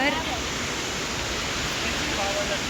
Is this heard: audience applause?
no